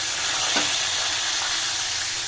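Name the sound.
katla fish frying in oil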